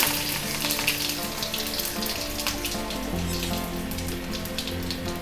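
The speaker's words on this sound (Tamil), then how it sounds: "கடாயில் எண்ணெய் விட்டுருந்தேன். அது நல்லா வந்து காஞ்சிடுத்து கடுகு உளுத்தம்பருப்பு தாளிச்சிடுவோம்" Mustard seeds and urad dal tempering in hot oil in a kadai crackle and sizzle up close, with a dense fizzing burst that settles into steady frying, and no talking over it.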